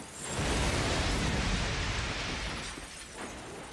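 Glass shattering as a plane's wheel crashes through a window, a dense roaring burst of breakage and debris that swells quickly, holds for a couple of seconds, then fades with scattered crunches.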